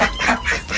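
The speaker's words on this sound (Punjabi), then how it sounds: "ਸਾਰੀਆਂ ਬੱਤਖਾਂ ਮਾਸ਼ਾਅੱਲਾ ਵੇਖੋ ਅੰਦਰ ਇਕੱਠੀਆਂ ਹੋਈਆਂ।" Ducks packed together inside a shed honk and quack loudly and close by in a quick run of about four calls.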